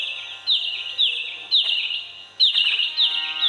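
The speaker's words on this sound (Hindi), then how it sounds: "चिड़िया चहचहा रही है।" Birds chirp and tweet in bright, repeated bursts, several high calls arriving in quick clusters about every half second, clear and close with no talking.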